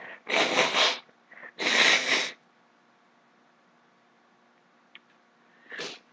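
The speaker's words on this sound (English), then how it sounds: "I just need to blow my nose" Two long, loud, breathy nose blows in quick succession, followed by a brief pause, a small sniff and a shorter final blow, close up.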